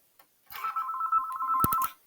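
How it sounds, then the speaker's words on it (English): A phone rings with an incoming spam call, one clear electronic trill that rings about a second and a half in a quiet room, with a few clicks near its end. "a phone call randomly comes in when it never does"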